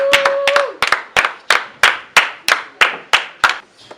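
A church congregation claps for the preacher in a series of sharp, close, evenly spaced hand claps. A short voiced note comes at the start, then the claps continue alone.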